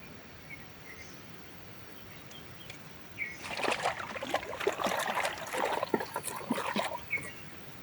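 Something being washed by hand in water at a dam-side camp, quiet at first, then close splashing and trickling for several seconds before easing off.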